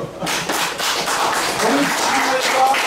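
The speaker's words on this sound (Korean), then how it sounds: "헐, 박수." An audience at a legal talk-concert in Gangnam breaks into dense, sustained applause, a thick wash of many hands clapping at once that holds steady throughout.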